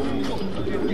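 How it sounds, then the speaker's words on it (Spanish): A racing pigeon coos during a final race, a short, soft, low call heard close, with faint background murmur. "Mira cómo viene ese palomo"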